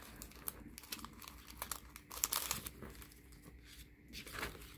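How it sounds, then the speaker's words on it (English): Tape pulled and pressed on during a sublimation craft project with a folding fan and carrying pouch, heard as soft crinkling and tearing rustles scattered through the clip, close and fairly quiet. "get me a piece of tape and put it on this side"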